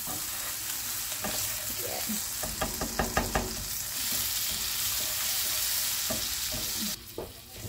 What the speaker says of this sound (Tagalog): We're gonna hit the pan and add some oil